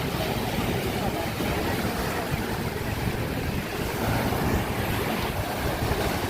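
Sea surf at Dhanushkodi on the Indian Ocean coast facing Sri Lanka rolls in a continuous, dense roar, with gusts of wind buffeting the microphone throughout.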